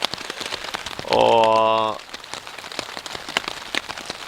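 Rain patters steadily on a tarp at a forest campsite in summer, with dense close drops throughout. A short tonal hum and a brief spoken word come partway through.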